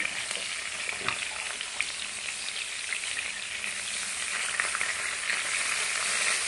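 Food fries in a pan at a family meal, a dense continuous crackling sizzle with occasional pops, close and steady, growing slightly louder toward the end.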